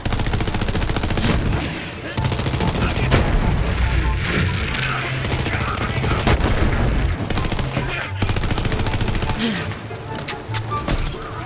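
Gunfire from the EM-P5 weapon in the video game Borderlands 3 sounds as dense, continuous shooting mixed with booming impacts and explosive effects, loud and unbroken throughout.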